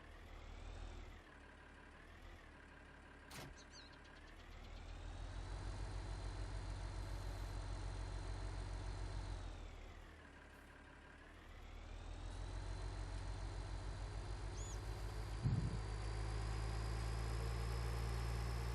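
A tractor engine idles in Farming Simulator 19, a steady low rumble with a faint whine above, swelling and easing as revs shift slightly, alone without talk.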